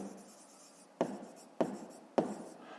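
Pen writing a maths exercise by hand, three distinct scratchy strokes at roughly even intervals, close and quiet, with faint rubbing between them.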